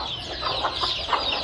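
A hen with her chicks on a Punjab village farm in Pakistan, giving a few soft, close clucks at an uneven pace over faint high chick peeps and steady background hiss.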